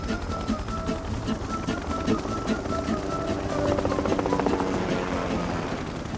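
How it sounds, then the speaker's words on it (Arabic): An aircraft engine roars steadily, a school plane in a comedy sketch, with a continuous loud droning hum and a chopping pulse running throughout and no break. "دي طيارة مدرسة مش اتوبيس مدرسة"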